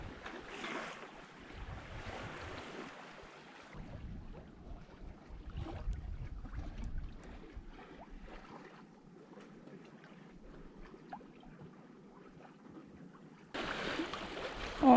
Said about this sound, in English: So we are attempting some very gentle sailing.